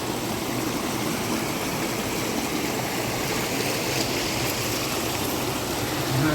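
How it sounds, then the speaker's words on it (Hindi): A small natural waterfall rushes steadily and loudly, with a dense, unbroken hiss of falling water holding level throughout, no voices. "झरना भी एक छोटा सा।"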